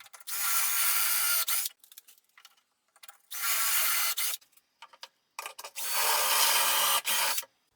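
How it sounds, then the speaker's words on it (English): A power drill bores dowel holes into the edges of wooden shelves using a doweling jig, three close, loud whirring bursts of a couple of seconds each separated by short quiet pauses and small handling clicks. "And I drill the hole for the corresponding dowel."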